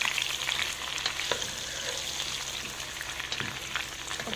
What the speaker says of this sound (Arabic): هدي بقى تشويحه للبصل